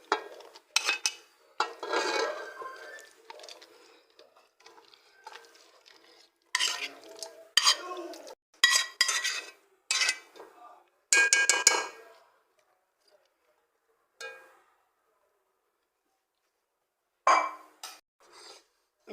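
Peas go into a pot of chicken ouzi mixture. A spoon scrapes and stirs against the metal in bursts, with quiet gaps between the bursts, close and fairly loud.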